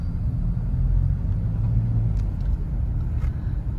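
Steady road traffic on the SLEX expressway southbound, heard from inside a moving vehicle as a continuous low engine and tyre rumble with no speech.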